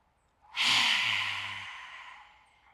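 Close, loud yogic lion's breath: one sharp, forceful exhale bursting in as a strong breathy roar with a brief hum underneath, then thinning to a soft trailing breath.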